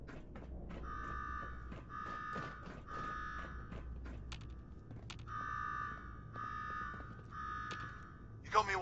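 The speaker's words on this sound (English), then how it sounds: "Now go shut off that damn alarm." An alarm rings in the video game Fallout 4, a repeating electronic buzz in regular bursts over low background rumble, ending with a sharp burst of noise.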